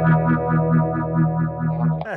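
Electric guitar through an effects pedal, a sustained distorted note swelling and throbbing in a regular modulated wobble for about two seconds before bending off abruptly, loud and close with no talking.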